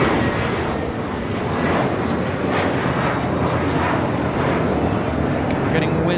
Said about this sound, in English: You're about to have a lot of cargo takeoff action here.